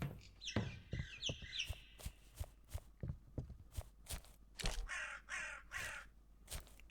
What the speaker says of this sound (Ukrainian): От ворони якісь каркають.